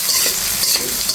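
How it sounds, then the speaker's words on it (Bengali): Onion paste being stirred as it fries with fish in a pan, a steady close sizzle with scraping stir strokes throughout, no voices. "এখানে একটু নেড়ে ছেড়ে ভেজে নিচ্ছি।"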